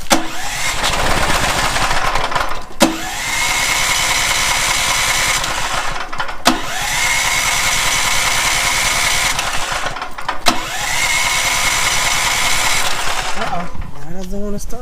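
A DuroMax 10000 watt electric-start generator cranks loudly and steadily in long bursts, stopping and restarting several times without catching.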